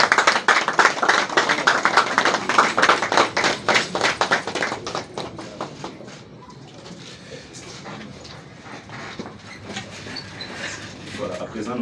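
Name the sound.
audience applause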